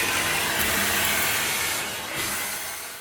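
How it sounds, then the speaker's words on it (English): A vacuum cleaner roars steadily and loudly while sucking styrofoam dust out of a machine in a workshop, with no talking. "So I'm just gonna vacuum all that out, make sure it's really nice and clean."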